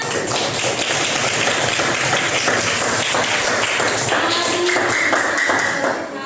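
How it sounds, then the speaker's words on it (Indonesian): A classroom group claps together, a dense, steady burst of applause lasting several seconds before tapering off at the end. "Tepuk tangan semuanya."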